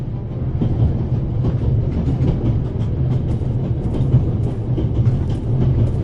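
Loud, steady rumble of a moving train, with rhythmic clacking of wheels over track joints throughout. No voices.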